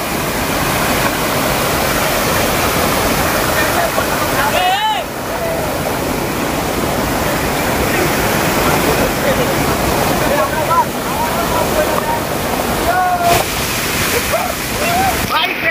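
Sea waves roll in with a continuous, loud rushing roar of surf that barely lets up, and faint voices break through now and then.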